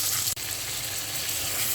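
Pieces of rohu fish fry in hot oil in a pan, a steady, dense sizzle that stays close and even throughout, with one brief dip near the start.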